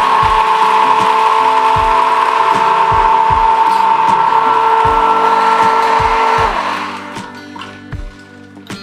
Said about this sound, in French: Vous allez venir prendre maintenant votre mixeur.